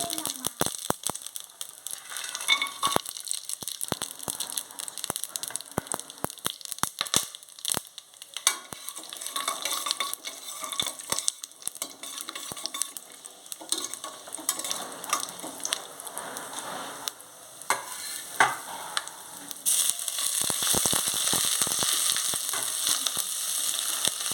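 Shahjeera and cardamom pods sizzling in hot oil for pea pulao, a dense crackling fry under frequent scraping stirs, with the spattering swelling louder near the end.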